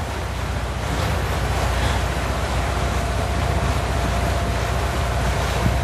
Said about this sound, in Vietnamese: Đây là sông Hậu, đây là một nhánh của sông Hậu.